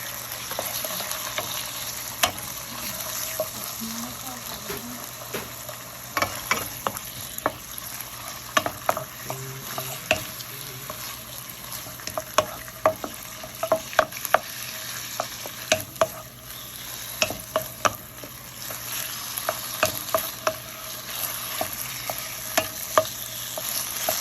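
Chicken stir-fried with garlic in a hot pan for a cashew nut dish, a steady loud sizzle broken by frequent scraping stirs of the utensil against the pan, with no voices.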